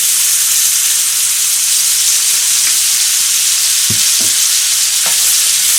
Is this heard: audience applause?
no